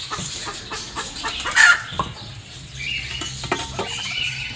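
A hen clucks in short, uneven bursts near the spot where she was set down, mixed with light rustling and pattering, close and moderately loud with no talking.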